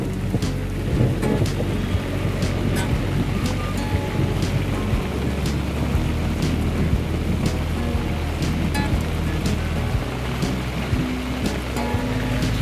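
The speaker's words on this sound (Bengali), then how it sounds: "দেখো জোর কদমে বৃষ্টি, আর এই মেঘ ডাকছে" Heavy rain pours down in a dense, constant hiss, with deep rumbles of thunder rolling underneath and scattered sharp ticks of drops hitting nearby surfaces.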